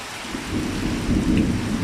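Heavy rain pours steadily in Surat Thani, the first rain of the season after a long dry spell, a dense continuous wash of droplets with a low rumble underneath and no voices.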